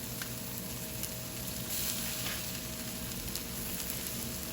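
Bean sprouts go into a hot pan of pad thai noodles with shrimp, setting off a steady, moderately quiet sizzle and crackle that continues evenly without talk.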